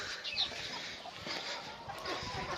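Hens and young pullets in a coop cluck softly, a few faint, scattered calls over a quiet background hiss.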